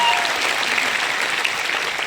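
An audience at an Indian business achievers' event bursts into loud, sustained applause, a dense, even wash of clapping that fills the whole stretch without a pause.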